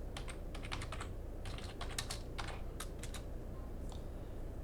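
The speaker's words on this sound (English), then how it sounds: "So here we'll type in router RIP" Fast bursts of computer keyboard typing as router RIP version 2 commands are entered, light clicking keystrokes in quick clusters with short pauses, faint and close with no talking.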